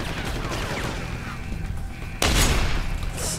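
Turret gunfire in the video game Deus Ex: Human Revolution, a steady low rumble of distant shots that turns into a sudden louder burst partway through.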